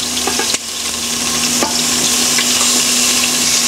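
Pork rib tips browning in a pressure cooker pan, a loud, steady close sizzle and crackle of frying with a couple of sharp pops near the start and no voices.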